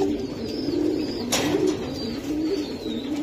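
Giribaz pigeons coo softly in a steady low murmur with a few faint higher chirps and a brief rustle in the middle, fairly close, no voices.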